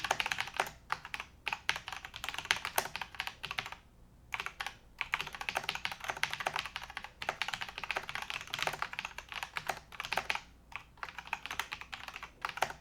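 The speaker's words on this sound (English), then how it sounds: "now we're gonna go ahead and complete the typing test on this one as well" Rapid, steady typing on a Lenovo mechanical keyboard with red switches during a typing test, dense clacking keystrokes with brief pauses, close and clear with no talking.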